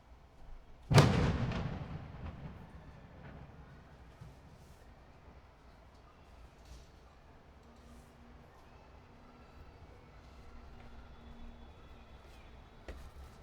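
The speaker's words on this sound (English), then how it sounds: "Fireworks have been going off like crazy even since, you know, July 4th." A single loud firework bang goes off outdoors during early July, then its rumble trails away over several seconds into quiet room ambience.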